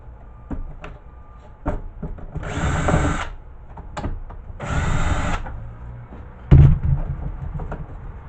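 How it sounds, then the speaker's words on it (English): A handheld power drill backs out the four screws holding a power supply board, giving two loud whirring bursts of a second or so each, set among sharp clicks and knocks of handling metal parts. "Now we're going to take and get the 4 screws holding the board in."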